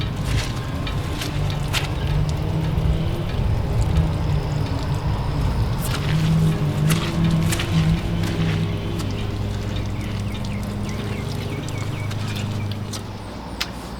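Water hosed over a diesel engine and boat transom in a final rinse, a steady spraying and splashing rush with irregular clatters and drips, close up and without talking.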